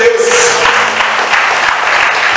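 Congregation applause fills a church service, a steady wash of clapping that continues throughout, with a brief tone and some background murmur at the start.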